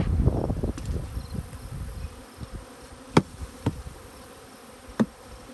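Honey bees buzz in a low, busy drone under a bee escape on a hive, loud at first and then settling, with a few sharp knocks and clicks.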